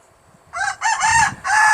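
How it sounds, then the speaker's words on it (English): A backyard rooster crows nearby in one loud, drawn-out call broken into several bursts, with faint clucking just before and no talking. "I hope my rooster's not too loud, but I have 3 now and I'm so excited about them, but they do make a lot of noise"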